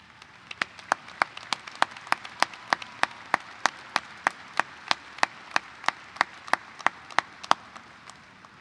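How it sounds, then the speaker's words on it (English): Slow, evenly spaced claps ring out at an Oak Grove High School graduation ceremony for Project Grad officers and volunteers, about two dozen sharp single claps with little crowd sound behind them. "would you please stand for a round of applause"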